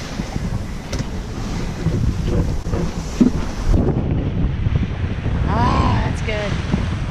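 Strong wind buffeting the microphone with rushing ocean water and waves around a sailboat crossing the Gulf Stream toward Cuba, loud and continuous, with brief faint voices and a whistling tone late on.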